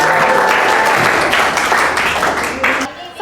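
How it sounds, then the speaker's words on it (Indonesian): Students in a classroom clapping together for a few seconds, loud and dense at first and fading at the end, with a teacher's voice briefly over it. "Oke, kasih tepuk tangan"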